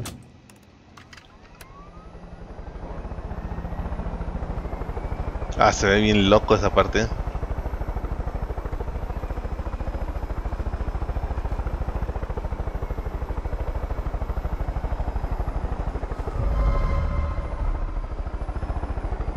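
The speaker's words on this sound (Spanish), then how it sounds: "Vámonos en el helicóptero." A helicopter's steady rotor and engine drone in Far Cry 5, running continuously at moderate level with someone talking briefly over it midway and faint clicks at the start.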